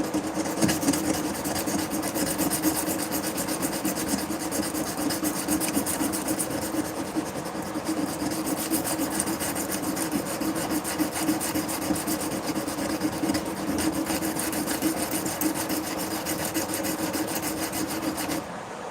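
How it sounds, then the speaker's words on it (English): A knife blade is sanded by hand in rapid back-and-forth rasping strokes, a steady close scratching rub that runs continuously, with a low hum in the background. "right now the knife I'm hand sanding"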